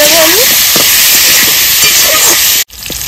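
Sliced potatoes fry in hot oil with a pinch of turmeric and salt, giving a steady, loud sizzling hiss throughout that cuts out abruptly near the end and then resumes more quietly.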